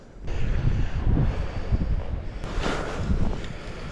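Strong wind buffets the microphone in steady, rumbling gusts on a bridge, loud and close, with no voices.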